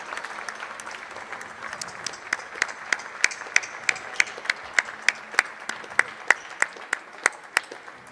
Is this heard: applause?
yes